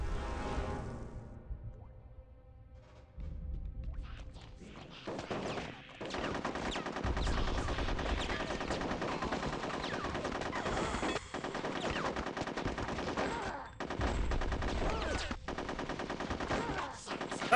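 Gunfire in the video game Conker's Bad Fur Day: dense bursts of rapid automatic shooting, loud and close, broken by brief pauses. A quieter ringing passage comes first, before the shooting starts.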